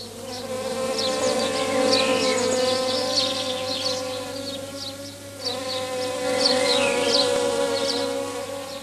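Bees buzzing steadily and close around flowers, a dense continuous droning hum with several wings overlapping and rising and falling slightly in loudness throughout.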